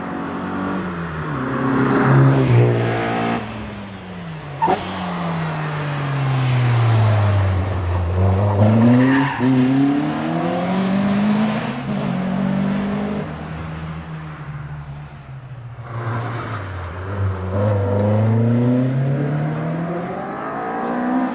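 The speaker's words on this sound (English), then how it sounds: "Daniel Carroll heads away in the MGB Roadster" An MGB Roadster races up the Prescott hillclimb course, its engine loud and close, revs climbing and dropping through repeated gear changes across the run with no talking.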